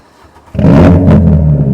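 A Volkswagen MK3 GTI engine bursts from a quiet idle into a loud, sustained rev that holds strong for over a second, close and unaccompanied by speech.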